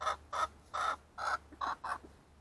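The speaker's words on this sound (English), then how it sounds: "What are you chickens doing?" Backyard chickens clucking nearby, six short, evenly spaced clucks in a steady rhythm over quiet background hiss.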